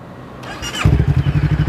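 A 2018 Honda Rebel 500 motorcycle with an aftermarket exhaust fires up after a brief starter whir, then settles into a soft, low, pulsing idle through the exhaust, close by.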